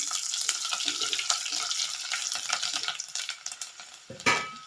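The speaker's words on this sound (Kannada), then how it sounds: "ಇದಕ್ಕೆ ಸ್ವಲ್ಪ ಕರಿಬೇವು ಅದಾದಮೇಲೆ ಬೆಳ್ಳುಳ್ಳಿ ಇದೆ ಕಟ್ ಮಾಡಿಟ್ಟದ್ದು, ಇದನ್ನು ಹಾಕ್ತಾ ಇದ್ದೇನೆ." Chopped garlic and curry leaves hit hot oil, giving a close, crackling sizzle with stirring scrapes that thins out, then flares in a sharp burst near the end; no voices.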